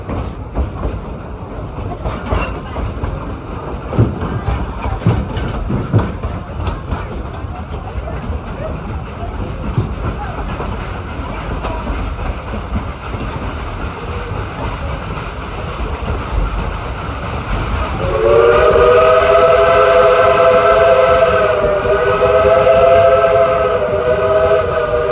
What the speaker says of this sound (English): Old 5-speed driven 282 locomotive.